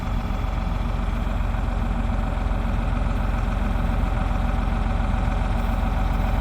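An International TD-6 crawler tractor engine, previously locked up, runs steadily at idle with no throttle, giving a loud, even low-pitched chugging that holds without change throughout, with no voices.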